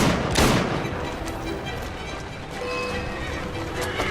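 Horse-drawn carriages rattle through Victorian London in Assassin's Creed Syndicate: a close horse whinny early on, then hoofbeats and wheel noise under a steady bed of game action, with scattered gunshot-like cracks.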